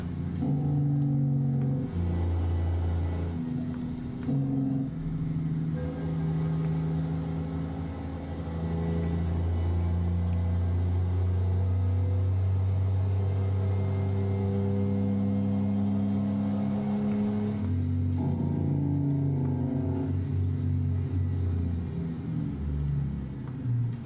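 A heavy diesel truck engine, a Detroit DD60 of about 620 horsepower in a Kenworth W900 in a trucking simulator game, revs and drones steadily, its pitch rising and falling with throttle, loud and continuous with a synthetic game-like quality.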